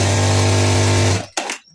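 A Jack A2C industrial sewing machine running with a steady loud motor whir and hum that stops abruptly, followed by a short mechanical clack.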